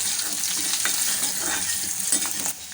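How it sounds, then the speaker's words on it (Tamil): Green chillies and curry leaves fry in hot oil in a pan for beetroot poriyal, a dense, steady sizzle broken by occasional stirring scrapes. "ஒரு தடவை நம்ம நல்லா மிக்ஸ் பண்ணி விட்டுக்கலாம்"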